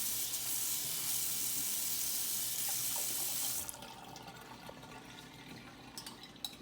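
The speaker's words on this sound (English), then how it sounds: "Let me rinse this spoon off." Kitchen tap water runs steadily over a spoon for a few seconds as it is rinsed, then shuts off, leaving faint clinks and quiet kitchen movement.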